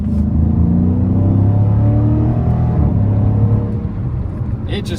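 A 2015 Dodge Challenger Scat Pack's naturally aspirated 6.4-litre engine roars steadily at high revs, deep and loud throughout, easing slightly near the end.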